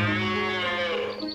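Oxen lowing on a farm, a single drawn-out moo that fills the short moment, loud and close with no other sounds around it.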